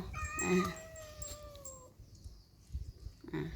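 A cat gives a single drawn-out meow, clear and fairly close, followed by quiet and a faint trailing sound at the end.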